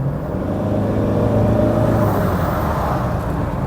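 Toyota Hilux turbo diesel engine held at high revs with the turbo working hard, a loud steady roaring drone with a constant whirring tone, close and uninterrupted, no voices.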